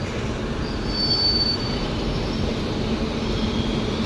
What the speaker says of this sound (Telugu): ఈరోజు మనల్ని పుల్ చేయబోయే loco WAG9 SC Valsad green colour